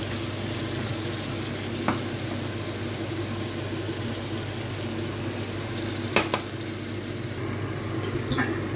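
Spinach and potatoes sautéing with spice masala in a pan for aloo palak curry, making a steady, moderate sizzle with a few sharp stirring clicks.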